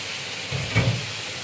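Pabda fish dropped into a hot pan of potatoes with nigella seeds for a Bengali fish curry, a steady sizzle that swells briefly in the middle as the fish hits the oil, then settles.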